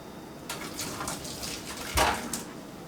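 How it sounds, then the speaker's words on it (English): Hot liquid from a pot of boiling pasta is poured off in a soft, splashing trickle that swells into a brief louder gush near the end, heard close and fairly quiet. "I'm going to pour a little bit of the liquid out,"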